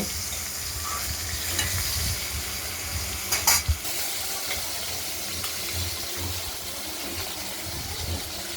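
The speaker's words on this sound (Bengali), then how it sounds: "আলুগুলোকে আমরা একটু নাড়াচাড়া করে নিলাম।" Potatoes fry in oil in a pan while being stirred, a steady close sizzle broken by a short cluster of spatula clatters partway through, with no voices.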